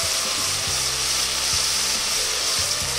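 Finely chopped tomatoes sauté in a pan for mutton curry, giving a loud, steady frying hiss with low scraping stirs repeating across the clip and no voices.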